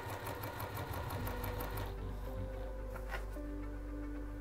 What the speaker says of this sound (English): So I'm going to try to stitch between the white and the blue line here.